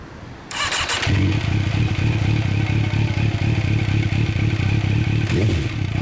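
A 2004 MV Agusta Brutale 1078RR motorcycle with a GPR exhaust fires up after a brief clatter, then settles into a loud, deep, throbbing idle with a rough exhaust burble, close by.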